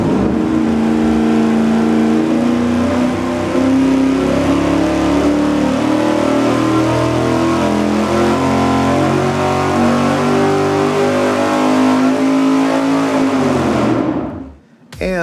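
A carbureted V8 fitted with an open carb spacer on an engine dyno roars at sustained high rpm for about fourteen seconds, loud and close, then cuts off abruptly into silence.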